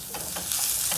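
Butter sizzles in a frying pan on a stove, a steady bright hiss with a few soft stirring scrapes, close and continuous, no voices.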